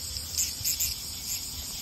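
Cicadas drone on a summer day in Toyohashi, Japan, a steady high-pitched buzz that swells in a few short pulses, with no talking.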